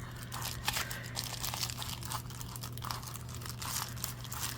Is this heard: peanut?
no